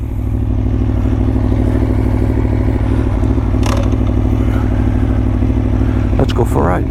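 A Ducati Tuono motorcycle engine idles steadily up close, a dense low rumble with strong even harmonics running throughout, broken by a brief clattering scrape midway and a rising rev near the end.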